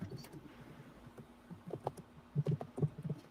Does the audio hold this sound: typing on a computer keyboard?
yes